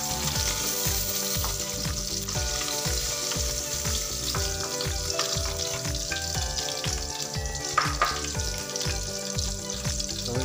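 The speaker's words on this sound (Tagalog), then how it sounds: "Nag-brown na po yung ating karne." Pork meat browning in a pan for pork binagoongan gives a steady, close sizzle that runs through the whole stretch, with faint tonal sounds in the background.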